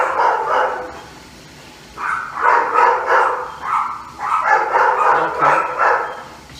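Several dogs bark outdoors beside a stovetop barbecue, repeated loud bursts of yapping in two clusters with a brief lull between them.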